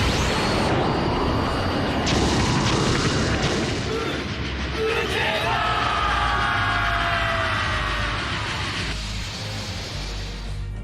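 A devastating 300-pound cannon blast from the One Piece anime booms out loud and close, its dense rumbling explosion roaring on for several seconds, with sweeping surges and a rail-like rush over a continuous heavy low end.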